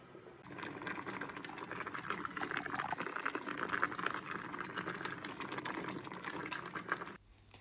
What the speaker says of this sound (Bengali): মুগ এবং মুসুর ডাল, তিনটেকে ভালো করে মিক্স করে আমি এবার একটু ভালো করে ধুয়ে দিয়ে দেবো